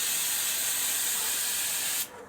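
An aerosol can of filter oil sprayed onto a FunnelWeb foam air filter for a Suzuki DR650, a close, loud, continuous hiss lasting about two seconds before cutting off abruptly.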